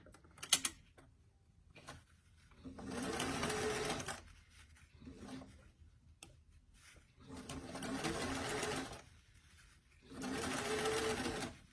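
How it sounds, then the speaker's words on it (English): A sewing machine stitches a doll-size beach bag, sewing in the round, in three steady whirring runs of about two seconds each. Brief clicks and handling noises fill the quiet gaps between the runs. "you're sewing in the round here"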